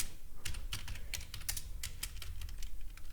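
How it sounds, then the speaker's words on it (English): A computer keyboard typed on quickly and steadily, crisp close clicks in irregular bursts throughout, no one speaking. "Again, what you hear is typing."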